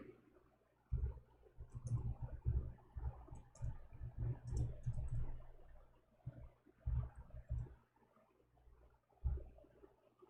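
Clicky typing on a computer keyboard, a steady run of close, quick keystrokes with short pauses between bursts, heard alone without talk.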